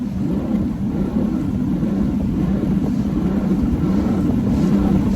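A Mercury 200 HP outboard boat engine that has been cutting out runs at wide open throttle, a loud, steady low roar with wind and water rush, continuous throughout.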